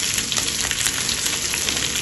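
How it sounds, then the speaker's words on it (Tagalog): Fish fries in a pan with a dense, continuous sizzling hiss dotted with small crackling pops, close and fairly loud, no talking. "Tapos pinirito na isda guys."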